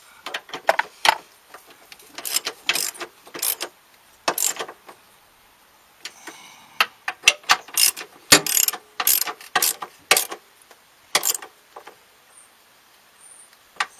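Ratchet wrench tightening a bolt on the 3.3L V6 engine of a 2001-2007 Chrysler Voyager during an accessory belt kit replacement: repeated bursts of sharp, close clicking strokes with brief pauses between them, loud and alone.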